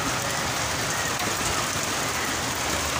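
Steady rain pours down outdoors at the PAF Museum, a dense, unbroken hiss of drops across the whole stretch at an even, fairly loud level with no voices.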